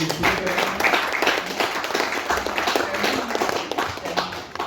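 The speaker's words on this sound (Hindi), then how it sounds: "सब एक बार तालियां बजा दीजिए" A crowd claps together in dense, sustained applause, with a few voices murmuring underneath.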